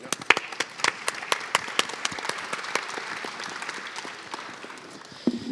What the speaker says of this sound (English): we should start, because it's also post-lunch, with a dynamic round of applause for the CPDP team and our panel